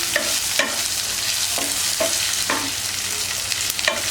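Chicken fries in a pan with ginger, garlic and onion while a spatula scrapes and stirs it in regular strokes about every half second over a constant close sizzle, with no talk.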